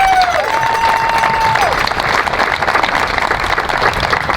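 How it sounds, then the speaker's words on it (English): Dense, steady applause from a large audience at an outdoor course dedication ceremony for a cross country champion, loud and continuous throughout with a brief whistle-like tone early on. "She deserves a round of applause."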